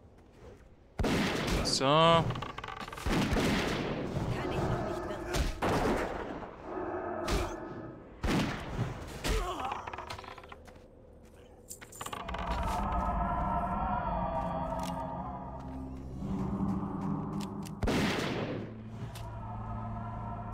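Hunter gunfire in World of Warcraft Classic rings out as repeated sharp game shots and impact thumps amid spell and effect sounds, with someone speaking briefly in German.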